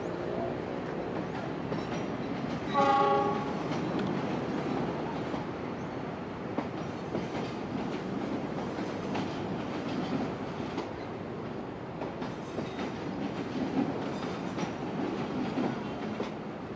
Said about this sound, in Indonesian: kereta api Malabar sudah sampai di stasiun Bandung